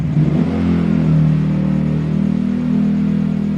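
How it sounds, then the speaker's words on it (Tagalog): A motorized tricycle passes close by outside a red carpet event, its engine a loud steady droning rumble that swells and holds for several seconds. "padaanin lang natin yung tricycle bago natin i-play itong video. Ang ingay eh."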